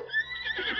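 A horse whinnies in Zelda: Breath of the Wild, a short, fairly loud high-pitched neigh heard on its own with a faint game background.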